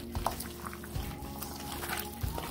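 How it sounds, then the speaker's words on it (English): Liquid smoke is poured onto oxtail seasoned for Jamaican-style jerk, a soft, close trickle and splash of liquid with a few light drips, quiet and without talk. "It's really smelling good with that smoke, liquid smoke."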